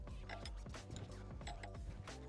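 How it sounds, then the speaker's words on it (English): Hose fittings are tightened with a spanner while installing a Mini-Tilt in the field, giving close, quiet metallic clicks, creaks and ratcheting scrapes in an irregular rhythm. "proceed to nip the hoses up"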